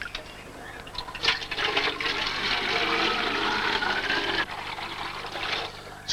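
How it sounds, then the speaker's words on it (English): Water siphons through a hose and rushes steadily in a continuous, fairly loud gush, with a faint voice underneath. "It's called siphoning, a common phenomenon wherever fluids and gravity are found."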